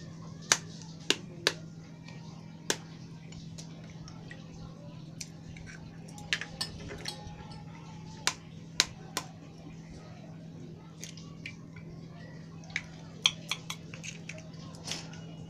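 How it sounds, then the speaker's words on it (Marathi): Eggs cracked one after another into a cooking pot in a home kitchen while preparing an onion egg scramble, giving several sharp, brief taps and cracks spread over quiet background hum. "आता मी ही अंडी ह्याच्यामध्ये फोडते भांड्यामध्ये"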